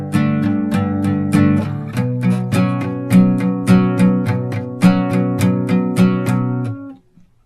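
An electric guitar strums chords in a steady backbeat rhythm of sharp repeated strokes, close and clear, ringing out briefly before stopping near the end.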